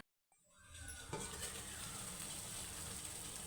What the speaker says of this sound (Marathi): अशा पद्धतीनं पाणी उकळायला पाहिजे बघा